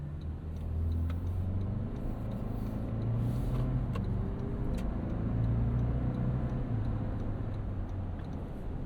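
A 2026 Toyota 4Runner Platinum cruises along, its engine a steady low hum with road noise, heard from inside the cabin with faint ticks over the drone.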